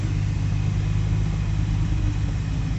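A 2000 Jaguar XJ12 engine runs at a steady, close idle with a low, continuous rumble and no audible talk.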